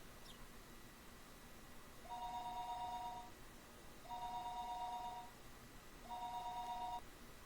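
A telephone in the Higurashi visual novel game rings in three even bursts about two seconds apart, a two-tone electronic trill, faint over a quiet background hiss.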